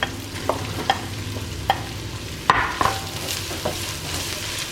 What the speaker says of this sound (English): Stir this together and add in the peppers and spinach.